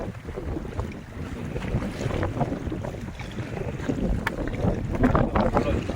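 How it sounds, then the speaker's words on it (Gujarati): Strong wind buffeting the microphone aboard a fishing boat at sea, a continuous rough rumble with gusty swells and faint water sounds, steady and moderately loud throughout. "આ જરાક પવનનો જોર વધારે છે"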